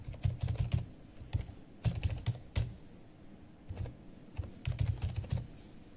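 A username is typed on a computer keyboard in quick bursts of crisp, close key clicks separated by short pauses, with no talking.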